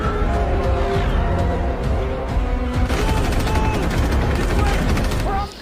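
Rapid bursts of gunfire crackle over a dense, loud action soundtrack, with sharp repeated shots standing out through most of the stretch.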